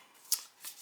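A pin scoring the paper backing of fusible web, giving a few faint, close, dry scratching strokes, one sharper flick followed by softer scrapes.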